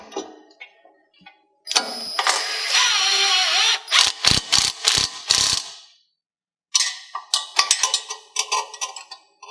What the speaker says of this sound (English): Now that we got those nuts in there, go ahead and tighten that down.